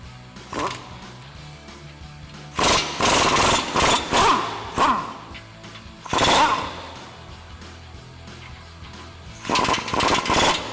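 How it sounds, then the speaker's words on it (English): Impact wrench with a 21 mm socket loosening U-bolt nuts on an F-150 suspension lift, several loud rattling bursts of a second or so separated by quiet gaps. "we'll grab our 21 mil socket on our impact, loosen up our driver's side"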